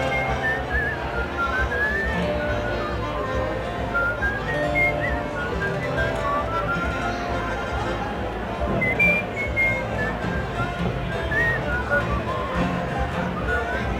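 Someone whistles a wavering melody on a tin whistle at an Irish traditional music festival in Cavan, over a busy, noisy background of murmuring voices.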